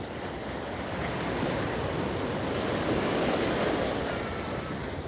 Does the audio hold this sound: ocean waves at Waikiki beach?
yes